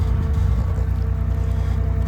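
A home-built diesel submarine engine idles on a lake during surface trials, a steady low rumbling throb with a faint rhythmic pulse, continuous and fairly loud, with no voices.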